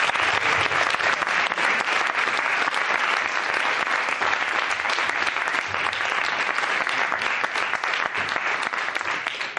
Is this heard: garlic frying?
no